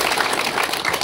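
An audience at a night gathering at a fort applauds loudly, with dense, steady clapping throughout the brief moment and no voices rising above it.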